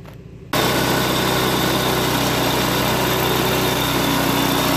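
A Tecumseh 6HP go-kart engine, just refitted with its carburetor, catches after a brief quiet moment and runs at a loud, steady, buzzing idle, close up with no talking.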